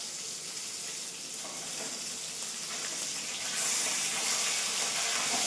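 Bombay duck fish mixed with spices and coriander leaves sizzles and crackles steadily in a hot pan, a bright continuous frying hiss that swells louder toward the end.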